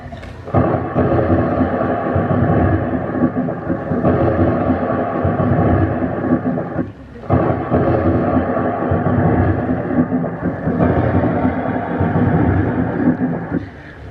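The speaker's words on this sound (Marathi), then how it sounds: "अगं बाई, केवढा हा विजेचा कडकडाट." Loud, continuous rumbling thunder during a lightning storm rolls on for the whole stretch, with a brief dip in the middle before the roar builds again.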